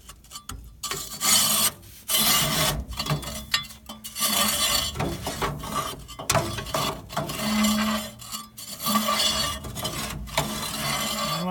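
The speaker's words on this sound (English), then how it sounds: "scrape all this creosote" Metal scraper rasping creosote off the back of an outdoor wood stove, with repeated rough scraping strokes. The strokes come in bursts and sound close and fairly loud, with occasional metallic clinks and no talking.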